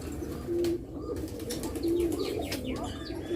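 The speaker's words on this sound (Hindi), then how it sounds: "दुनिया की हर नस्ल का कबूतर यहाँ पे है" Pigeons of many breeds kept together, cooing in soft low repeated notes against a busy background of chirps, wing flutters and general bird noise.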